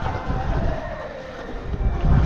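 A boat moves across open water on a river near Malvan, with steady engine and wind rumble, broadband water wash and a rising surge near the end, no speech.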